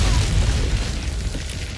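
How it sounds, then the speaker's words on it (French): A grenade blast in the Resident Evil 4 video game, a deep booming explosion with a rumbling tail that fills the short moment at steady loudness. "Grenade!"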